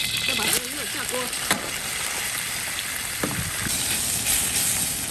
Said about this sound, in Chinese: 再把这个肉下锅